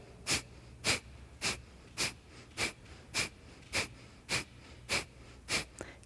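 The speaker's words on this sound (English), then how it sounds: "Short inhalation again, and exhale through the nose." Rapid, forceful exhalations through the nose during high-energy yoga breathing: about ten sharp, evenly spaced puffs roughly every half second, close and fairly quiet, with no talking.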